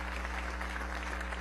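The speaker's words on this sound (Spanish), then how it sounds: "Yo pido un aplauso para las diputadas y diputados de la Asamblea Nacional." Applause rings out in the National Assembly chamber during the election of new electoral council authorities, a steady wash of clapping across the whole moment with hum underneath and no voices.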